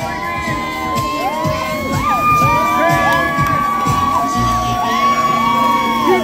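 A large crowd at a Jollibee restaurant grand opening in Chandler, Arizona cheers and shouts continuously, with high excited whoops and children's voices rising over a dense roar.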